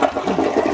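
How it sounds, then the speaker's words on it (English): A newly installed household toilet flushes up close, a loud, short whoosh of swirling water with no voices heard. "I'll let you be the first person to ever flush this toilet"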